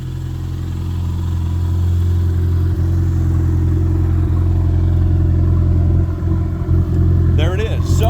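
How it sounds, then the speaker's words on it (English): A car engine hums steadily as the vehicle rolls down the road, a loud continuous drone with some rattling and a brief rise near the end. "The motor runs really well, and it sounds good going down the road."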